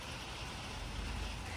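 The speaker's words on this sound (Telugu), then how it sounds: "వర్షం వస్తుంది." Steady rain falls outdoors in a village on the day of the Ayudha Pooja festival, heard as a soft, even wash of patter that continues throughout without any voices.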